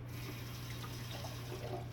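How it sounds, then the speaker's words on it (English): Tap water runs in a steady, gentle stream while heirloom tomato seeds are rinsed, a soft continuous trickle and splash heard alone under a low background hum. "turn the water on like that"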